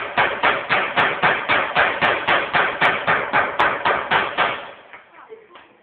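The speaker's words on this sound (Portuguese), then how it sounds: "Vamos só quebrar para a gente ver o tipo de fratura que aconteceu." A metal impact test specimen being broken, heard as a steady series of about fourteen loud, evenly spaced hammer blows that fade out near the end.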